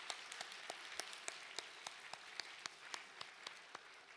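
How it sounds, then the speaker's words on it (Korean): A church congregation gives a short round of applause. The claps are faint and fairly sparse, landing in a steady, evenly spaced rhythm with no voices over them. "그 옆 사람들 자축의 박수 한번 쳐"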